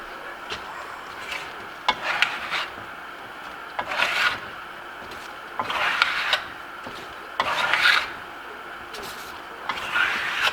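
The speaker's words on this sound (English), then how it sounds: "So now we're going to bury them with the black plaster." A trowel spreads black plaster over a wall surface in a Grasello finish, giving soft scraping strokes in irregular bursts every second or two, close and moderately quiet.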